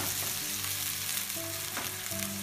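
Pre-boiled vegetables sizzle with macaroni in a hot pan, a dense, even frying hiss held throughout with faint stirring, a low steady hum beneath it, and no talking.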